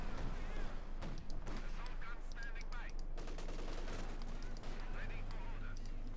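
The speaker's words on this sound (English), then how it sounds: "he's got a machine gun though, likely a pilfered MG42 there from Zerg" MG42 machine gun fire in the strategy video game Company of Heroes 2 sounds as dense, rapid bursts amid other battle effects, with continuous commentary talking over the gunfire.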